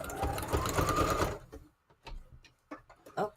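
A sewing machine stitching around a paper junk journal page: a dense, loud whirring run of rapid stitches that stops after about a second and a half, followed by scattered paper handling and rustling sounds, close by.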